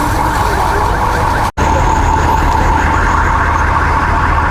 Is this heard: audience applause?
no